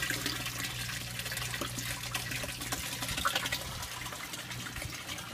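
Water streaming from an aquaponics grow bed, a 55 gallon drum cut in half and lined with nylon agricultural net, and from a bypass valve, splashing in a steady, continuous gush with no talking.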